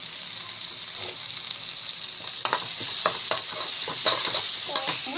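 Tomatoes with urad dal and chana dal frying in hot oil, with a steady bright sizzle and intermittent close scrapes and stirs of a spatula in the pan.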